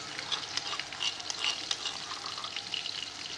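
Two to three spoons of ginger-garlic paste hit browned onions in a pot for potato rice pulao (aloo tahari), giving a brief, close, bright crackling sizzle with small bursts of spattering.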